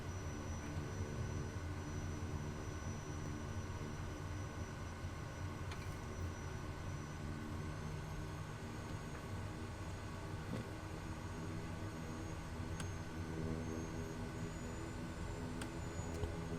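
Kodiak 100 turboprop aircraft throttling up for takeoff in Microsoft Flight Simulator 2020, a steady dense engine roar holding at an even level throughout with no voices.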